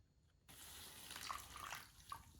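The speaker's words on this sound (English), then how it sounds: "we're going to pour it into our calcium chloride" Water is poured from a container onto calcium chloride, starting abruptly as a steady splashing gush with a few brighter droplet clinks, fairly faint and with no voices.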